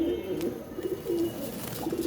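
Pigeons cooing close by, repeated soft low coos in an uneven rhythm over faint background noise.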